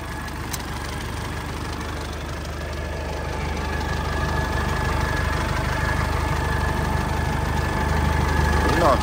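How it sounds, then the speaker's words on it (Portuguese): A 2007 Ford F250 XLT with a Cummins four-cylinder diesel runs steadily nearby, a low, even engine rumble that grows slightly louder toward the end. "Aí o baita motorzão 4 cilindros."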